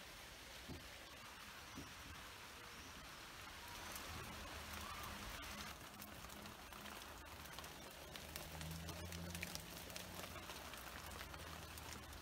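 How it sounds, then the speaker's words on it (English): Soft, steady summer rain patters on leaves in a garden in Wiltshire, a quiet, even hiss that swells slightly heavier toward the end. "The rain's beginning to get heavier."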